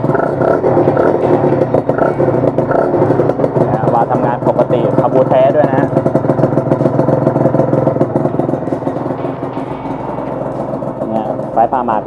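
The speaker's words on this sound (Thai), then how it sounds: "ท่อสูตรนี่เสียงใสๆเลยนะครับ" A Honda NSR150 Pro-Arm two-stroke motorcycle with an aftermarket expansion exhaust idles and burbles steadily up close throughout, with rhythmic engine clatter and no clear revving peaks.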